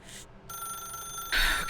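A telephone rings steadily in The Stanley Parable video game, a bright electronic ring that swells louder near the end.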